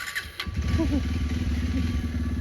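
A Pulsar motorcycle engine idles nearby with a steady low putter, a few clicks and clatters near the start.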